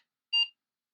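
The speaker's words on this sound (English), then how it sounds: "we should get the beep and the screen." A single short, clean electronic startup beep from an Apple II Plus computer sounds once, brief and clear against silence.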